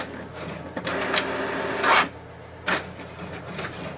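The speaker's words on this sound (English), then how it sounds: "click on the print button and wait for the printer" An HP DeskJet 2600 inkjet printer runs a print job, giving rasping mechanical passes and short whirring bursts of the carriage and paper feed, close by and fairly quiet, with no one speaking.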